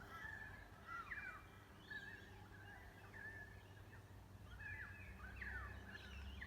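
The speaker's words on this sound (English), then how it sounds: "I have no idea what type of bird that is." An unidentified bird calls repeatedly from a distance at sunset, faint chirping and warbling phrases recurring every second or so over a steady low outdoor hum.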